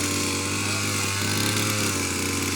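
Grass cutter running steadily outdoors while trimming grass during a neighbourhood cleanup, its close, loud motor whine holding constant without a break.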